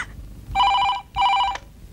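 Hotel telephone ringing on a call to reception, two clear electronic rings in quick succession over a low background hum.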